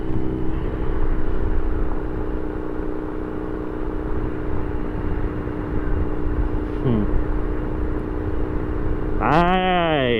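A Kawasaki ZX10R sport motorcycle rides along a laterite dirt road through forest, its engine a steady, fairly loud drone, with a brief rising rev near the end.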